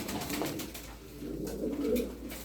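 Domestic pigeons, fancy breeds such as Miski and Nuhudi, coo softly and continuously in a low, throaty, overlapping murmur at moderate distance, with no talking.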